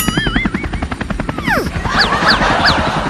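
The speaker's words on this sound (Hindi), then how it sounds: "मैं बोला था ना कि मुझे हेलीकॉप्टर उड़ाना आता है।" A helicopter sounds in a short comedy sketch, with a loud, steady whirring and some rising and falling tones.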